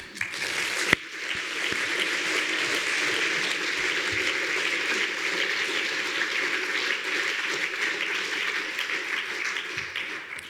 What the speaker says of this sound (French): Je vous propose qu'on les applaudisse.